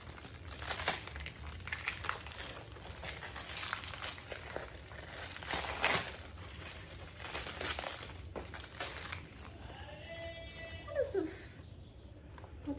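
Plastic mailer package from an online haul torn open and handled up close: continuous loud crinkling and crumpling of plastic wrap, with brief ripping and rustling throughout.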